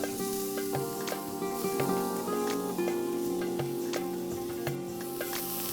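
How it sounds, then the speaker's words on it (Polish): Chopped celery sizzles steadily in hot oil in a pan for a vegan gluten-free mushroom soup, a close continuous crackle with faint scraping as it is stirred. "I do rozgrzanego oleju wrzucamy seler."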